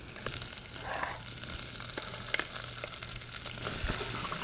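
Onions and carrot sweating gently in fat in a sauce pot, a soft, even sizzle with faint stirring, fairly quiet and unaccompanied by talk.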